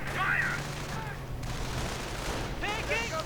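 Sticky bomb explosions hitting an Ostwind tank in a World War II strategy video game, a series of rapid blasts and crackling bursts over continuous battle noise.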